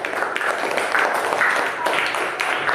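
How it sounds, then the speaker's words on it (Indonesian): A group claps for Mbak Lili during a lesson about fasting, with close, busy handclaps in uneven bursts and voices mixed in. "Tepuk tangan untuk Mbak Lili."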